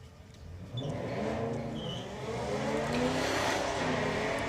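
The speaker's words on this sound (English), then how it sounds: "Dave Lipstone back on the start line with the R32 powered Ford Galaxy, taking on the yellow Mustang" An R32-powered Ford Galaxy and a yellow Mustang launch in a drag race, engines swelling from a low rumble into a loud sustained revving roar that climbs in pitch as they accelerate away.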